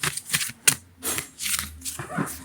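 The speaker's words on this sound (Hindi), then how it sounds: "shuffling the cards and let's see what comes here." Tarot reading cards are shuffled by hand in short, crisp bursts of riffling and slapping, several quick rounds close to the microphone.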